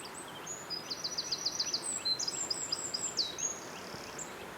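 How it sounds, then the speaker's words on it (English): A wren sings in the background on a countryside walk near Balcombe, its faint, rapid, high-pitched trills and twittering phrases running in quick bursts over quiet outdoor ambience. "Little wren in the background."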